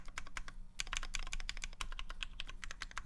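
Rapid, steady typing on a Kei R2 mechanical keyboard, crisp close keystrokes clattering in quick uneven bursts with no voices.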